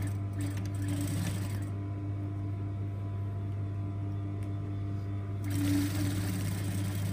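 A sewing machine stitches a 1 cm seam joining garment lining, running as a steady close whir with a stronger burst near the start and again toward the end.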